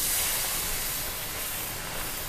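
Coconut cream frying in a hot pan for a Thai panang pork curry, a loud, steady, broad hiss that fills the whole stretch without a break.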